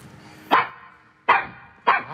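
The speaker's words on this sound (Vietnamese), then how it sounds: "Có chó. Nó nuôi chó mà." A dog kept at a house barks three times in short, sharp bursts, evenly spaced and fairly close, against an otherwise quiet background during a comedy stage show.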